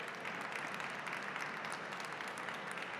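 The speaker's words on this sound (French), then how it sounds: "Oui, vous pouvez vraiment applaudir" Applause from the audience at a diplomacy accord signing ceremony, a dense, steady patter of many hands clapping throughout without a break.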